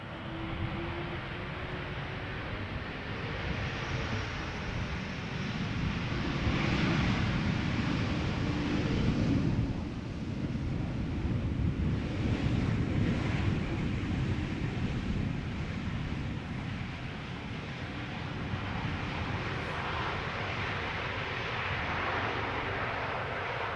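An Air Canada Boeing Dreamliner arriving from Montreal at Amsterdam Schiphol gives a broad, steady jet roar that swells and fades gently, moderately distant, with wind rumble on the microphone.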